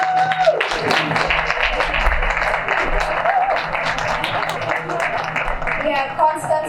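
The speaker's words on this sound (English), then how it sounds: "Please, a round of applause." Audience applause at a panel discussion during the Magical Kenya Travel expo, greeting a Community Relations Officer from Wildlife Works; steady dense clapping throughout, with a voice talking over it.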